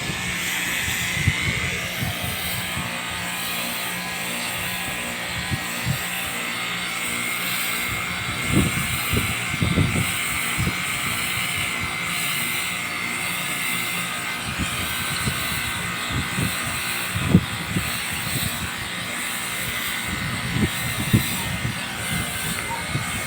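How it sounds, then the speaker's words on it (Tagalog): A power spray pressure washer blasts moss off a surface, a continuous loud hissing jet with a droning motor underneath and occasional bursts as the spray hits, people nearby laughing and chatting. "Lakas ng power spray oh."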